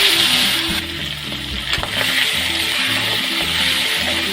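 Green banana and shing fish frying in a pan after cumin tempering give a loud, continuous sizzle with faint stirring scrapes, close by.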